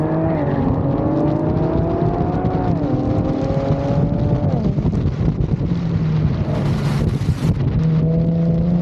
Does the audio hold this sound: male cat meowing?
no